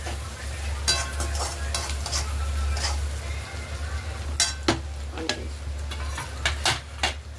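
Carrot, beans and coriander stir-fried in a pan for chicken fried rice, a steady sizzle over a low hum, punctuated by sharp spatula clicks and scrapes against the pan.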